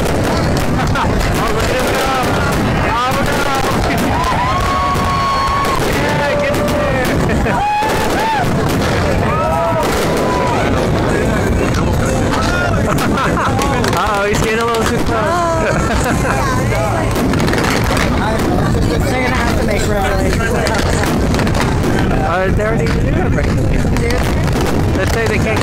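Fourth of July fireworks bursting over Houston, a continuous barrage of booms and crackles with wind buffeting the microphone and people talking throughout.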